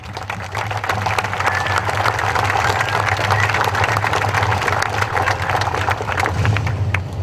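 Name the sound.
audience applause at statue dedication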